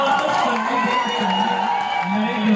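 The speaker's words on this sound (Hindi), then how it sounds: "एक बार जोर से ताली बजाओ उनको" A large outdoor crowd claps and cheers, with shouts and whoops layered over a steady patter of hands while voices carry through the noise.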